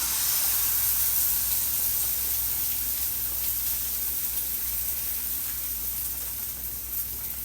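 Steady hissing sizzle of batter hitting a hot pan, continuous and fairly loud throughout with no talking.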